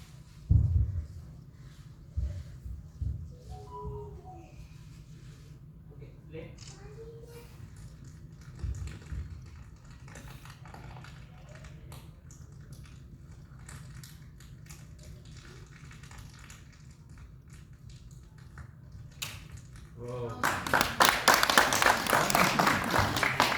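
Simple polythene is crinkled for a foley flame effect in a dubbing and recording studio. A loud, dense crackling rustle bursts in near the end after mostly quiet handling noises.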